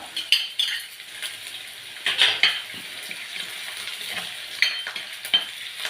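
Shallots, fenugreek seeds, ginger and garlic fry in a pan with a steady close sizzle, broken by scattered scrapes and clinks of a utensil against the metal.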